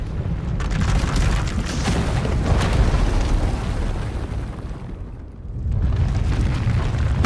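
A surge of uncontrolled power erupts and tears apart an asylum in Star Wars: The Old Republic, a loud roaring blast with crackling debris that briefly dips before the rumble surges back.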